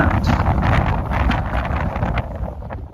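A strong gale blowing across an open hilltop field, buffeting the microphone with loud, continuous roaring gusts for a few seconds, with no voices.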